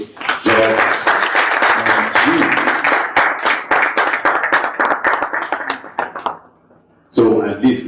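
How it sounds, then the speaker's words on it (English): A crowd at a press briefing for a jobs platform launch breaks into loud, close applause with dense rapid hand claps. It fades briefly near the end before resuming strongly. "let's hear another round of applause for Gr8jobsng"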